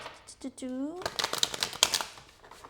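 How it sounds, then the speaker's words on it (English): Tarot cards are shuffled during a reading, a quick flurry of crisp papery riffles and slaps following a brief spoken phrase, close and moderately loud. "I'm going to shuffle here"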